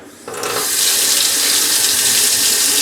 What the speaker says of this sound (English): So let's turn the water on.